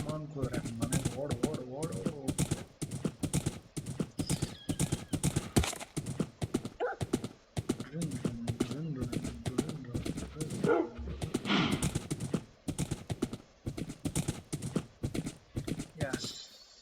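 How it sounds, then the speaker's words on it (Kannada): Horse galloping in Minecraft, a steady run of hoof clip-clops heard under continuous talking that carries through the whole stretch, with dog barks mixed in nearby. "ಕುದುರೆ ಮನೆಗೆ ಓಡು."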